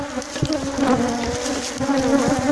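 A honey bee colony buzzes loudly and continuously while the hive is opened during beekeeping work, giving a dense, droning hum with no voices.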